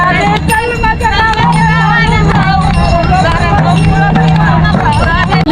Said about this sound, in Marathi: घाटामध्ये वारकऱ्यांचा जल्लोष.